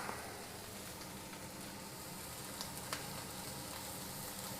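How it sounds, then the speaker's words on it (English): Beef browning undisturbed in a hot wok gives a steady, continuous sizzle at moderate level, with faint crackles and pops over it and no voices. "This is a pretty common wok technique just for browning meat."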